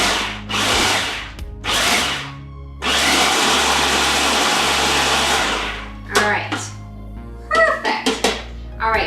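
A food processor or blender finely chops pistachios and almonds for baklava filling, running in several loud whirring bursts with short pauses, including one long sustained run, followed by clattering and a few brief knocks.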